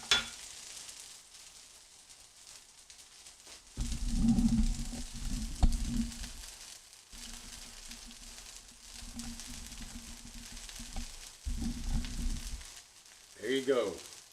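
Shrimp and pork fried rice sizzles in a hot pan, a steady low crackle swelling into louder bursts as the rice is tossed, with some talk alongside.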